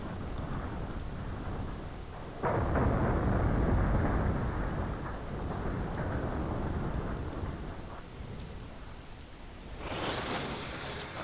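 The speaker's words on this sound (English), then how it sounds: "Pretty devastating explosion there." A loud, sudden explosion of a Burnside AeroCoupe car in BeamNG.drive bursts in and rolls into a long, rumbling roar of crackling debris, fading slightly before a hissing burst near the end.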